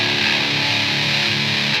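Electric guitar through a Hughes & Kettner amp with the treble turned right up, a bright distorted chord ringing continuously for under two seconds, close and loud with no talking.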